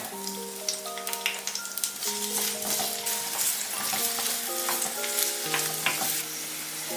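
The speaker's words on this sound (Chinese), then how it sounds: "然后把砂锅加热，加入少许油，把配料放进来炒香。" Aromatics stir-fried in a little oil in a heated clay pot, a steady close sizzle with scattered scraping stirs and light clicks throughout, alone with no voices.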